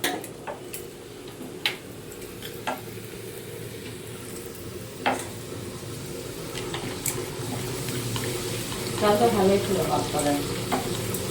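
Dal puri fries in a pan of oil with a steady close sizzle, punctuated by sharp ticks and pops, and a burst of louder bubbling near the end.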